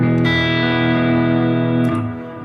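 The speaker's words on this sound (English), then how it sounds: "That was a dirtier deluxe reverb." Electric guitar played through a Quad Cortex modeler using a dirty, overdriven Fender Deluxe Reverb amp capture: a loud, sustained distorted chord ringing out alone and fading slightly at the end.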